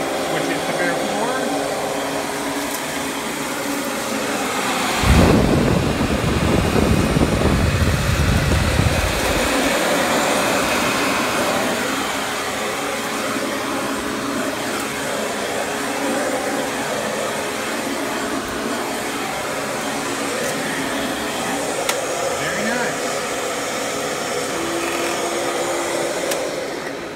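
A Panasonic Jet Flo vacuum cleaner runs on a bare floor: a continuous loud motor and airflow roar with a brief louder surge in the middle, then a steady drone throughout.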